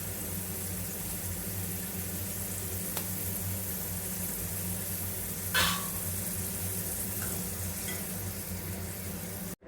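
Crispy corn frying in oil over a medium-low flame, a dense continuous sizzle close up, with a couple of faint brief clicks and one short louder hiss partway through.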